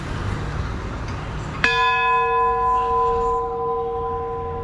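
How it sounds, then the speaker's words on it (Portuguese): The Sino da Paz bell in Socorro, São Paulo, strikes once to mark the hour, loud and close, with a long shimmering ring that slowly fades over faint outdoor background noise. "Olha, soa bem, hein? Sino da Paz, Marco da Paz."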